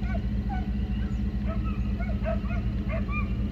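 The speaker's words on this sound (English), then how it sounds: "Dogs are all right there." Hunting hounds bay and bark on a coyote chase at night, thin, distant yelps and howls drifting in and out over a steady low engine rumble.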